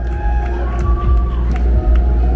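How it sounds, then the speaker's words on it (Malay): Crowd cheering and clapping for a contestant at the Miss Taste of Borneo Cultural Carnival pageant, a loud dense roar with whoops and scattered claps over an amplified hum, continuous throughout. "beri tepuk tangan sekali lagi untuk Ivy Anshuar"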